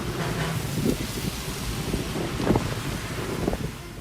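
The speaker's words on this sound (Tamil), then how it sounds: "திருச்சி மாவட்டம் முசிறி சுற்றுவட்டார பகுதியில் பலத்த காற்றுடன் மழை பெய்தது." Heavy rain and strong wind around Musiri in Trichy district, Tamil Nadu: a dense, continuous roar of gusting wind and rain buffets the microphone, with a few louder surges and no voices.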